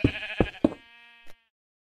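Sheep in the Minecraft video game bleat three times in quick succession, loud and close, with a crisp game-sound quality and a small click after, no talking.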